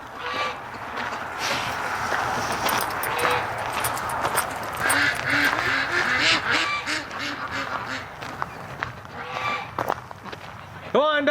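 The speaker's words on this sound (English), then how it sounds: "Oh, ducks are getting in position." Ducks quack again and again through a snowy winter outing, their calls close and fairly loud, while a person speaks over them now and then.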